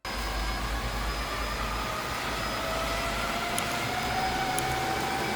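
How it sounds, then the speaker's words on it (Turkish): A Viomi Cyber wet-dry cordless upright vacuum cleaner runs steadily, a constant whooshing hum with a thin high whine that holds unchanged throughout. "Güç düğmesine dokunup süpürme işlemini başlatıyorum."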